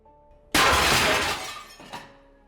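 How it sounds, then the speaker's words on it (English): A large window next to a couch shatters in one sudden loud crash, then a burst of breaking glass that lasts about a second, followed by a few fainter tinkles as shards settle. "The large window next to the couch had been completely shattered, a web of broken glass glistening ominously"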